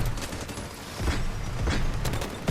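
Continuous rapid gunfire in the Delta Force Mobile video game, a dense, steady stream of shots with periodic heavier bursts throughout.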